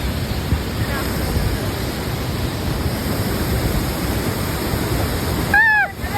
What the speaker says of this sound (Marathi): गाईज धबधबा लय डेंजर आहे.